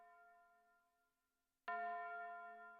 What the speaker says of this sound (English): Tubular bell, there it is.